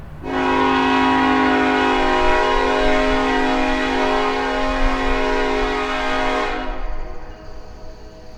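A train horn sounds in a subway yard at night, one long sustained blast held loud and steady for about six seconds before cutting off, leaving low rumbling rail noise behind.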